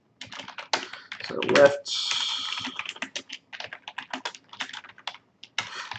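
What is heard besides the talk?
typing on a computer keyboard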